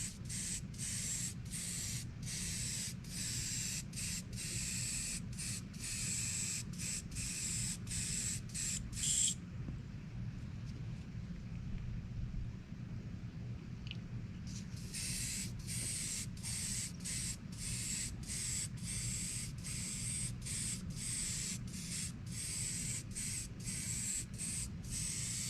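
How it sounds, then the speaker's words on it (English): Rapid hissing bursts of a spray can, repeated in quick pulses, pause briefly midway, then resume in the same steady rhythm. "and always spraying down, never spraying up"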